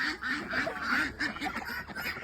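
Geese honking on a farm among ducks and turkeys, a dense run of repeated nasal calls overlapping throughout, close and fairly loud with no talk.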